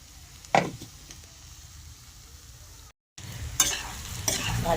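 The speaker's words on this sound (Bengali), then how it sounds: "এবার ভালো করে আমি এটাকে নেড়ে চেড়ে নামিয়ে দেব।" A spiced vegetable mixture for vegetable chops sizzles in a pan as a spoon stirs it, with a few sharp scraping strokes over a steady frying hiss and a brief cut partway through.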